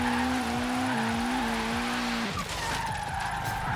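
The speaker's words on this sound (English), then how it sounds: "It actually managed to come out as a decent drift car." A Ford Focus RS drift build slides in a racing video game, its tires squealing in a long continuous screech over a droning engine note that shifts and roughens midway.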